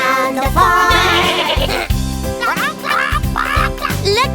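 Bleating goat sounds, imitated in a children's farm song over a bouncy tractor-themed tune, with repeated 'meh' calls sung loudly up front over steady rhythmic music.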